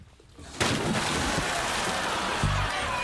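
A sudden loud rush of surging water crashes in after a quiet start and roars on, like a big wave breaking.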